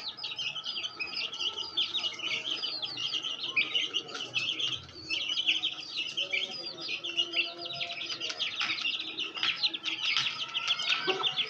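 A crossbred hen clucks among her small chicks, whose thin, high peeping goes on almost without a break, close and steady, with the hen's lower clucks heard now and then underneath.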